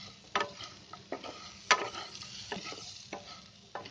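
Sweet potato chaat with sugar being stirred in a pan, a quiet run of scraping and soft sizzling with a few sharper clinks and taps, close and with no talking.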